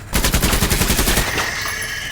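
Rapid automatic gunfire in the video game Menace, a loud burst of closely spaced shots rattling for about a second before tailing into ringing impacts as bullets strike bugs.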